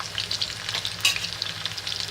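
Garlic frying in hot oil in a kadai, a steady close sizzle and crackle with a brief louder spatter midway, no voices.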